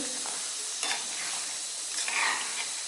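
A spoon stirs a thick mushroom curry in a hot pan, giving a continuous sizzle with a few scraping strokes rising briefly above it.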